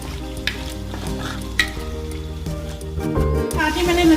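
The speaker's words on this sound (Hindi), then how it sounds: "चिकन को अच्छे से फ्राई करूंगी।" Chicken fries in a pan as the base of a spicy pasta sauce, with a steady sizzle and crackle over a continuous background tone and a few sharp stirring clicks, growing slightly louder toward the end.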